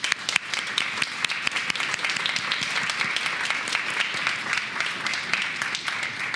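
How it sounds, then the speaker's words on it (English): Audience at the Digital GreenTech Konferenz 2025 breaks into sustained applause, a dense crackle of many hands clapping steadily and fairly close for several seconds, with no talk over it. "So maybe let's give them an applause just to start right now."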